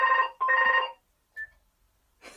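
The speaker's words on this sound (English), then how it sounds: "I'll just wait until Hugh's finished answering his phone." A telephone rings indoors in two loud electronic bursts, followed by a short beep and then quiet.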